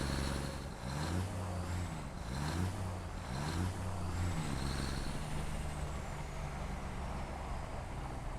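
Vehicle engine in the video game Satisfactory, a steady low rumble with rising and falling revs and a brief hiss, heard alone without talk.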